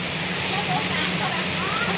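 The season's first rain falls steadily and densely, a continuous broadband patter close by, with voices mixed faintly into the wash.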